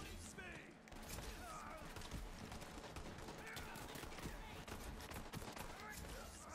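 Rapid video game gunfire crackles almost nonstop in bursts, loud and dense, with a voice talking over it throughout.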